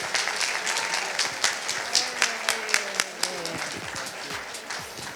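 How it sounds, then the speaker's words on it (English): Audience at an International Women's Day gala breaking into sustained applause, a dense wash of clapping with some sharper individual claps and a voice speaking over it. "Another round of applause."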